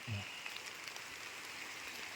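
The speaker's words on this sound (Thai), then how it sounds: "แต่ละฝนลงเม็ด ต้องรีบหนีแล้วครับ" Light rain patters on the leaves of young durian trees in an orchard, a soft, even hiss dotted with faint droplet ticks, and a brief low murmur at the start.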